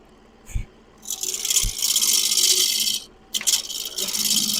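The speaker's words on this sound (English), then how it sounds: "you can use a roughing gouge" A roughing gouge bites into spinning wood on a lathe in rough, rasping bursts of cutting, with a few short knocks before it and a brief pause mid-cut, close and fairly loud.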